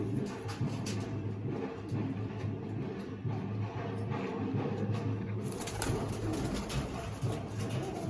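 Teddy pigeons in a loft coo in soft, repeated low calls over a busy background of rustling and faint distant noise, with occasional wing flutters.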